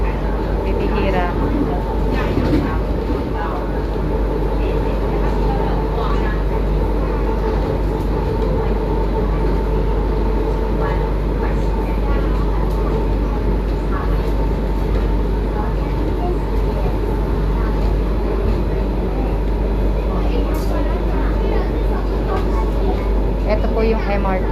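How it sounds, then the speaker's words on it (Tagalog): Steady rumble of an MRT train at a station with low mechanical drone and passing clatter, people talking throughout. "Ito po yung MRT."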